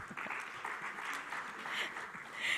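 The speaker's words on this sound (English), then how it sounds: "Please, let's give them a round of applause." Applause at an awards ceremony, a steady broadband wash of clapping from a crowd that holds even and continuous, swelling slightly toward the end.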